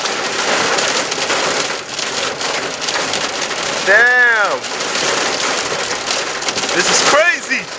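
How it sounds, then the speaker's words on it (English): Heavy hail pelts down in a dense, continuous roar during a storm in Toronto, with bird chirps cutting through and a man briefly swearing under the noise. "It's hailing like a mother."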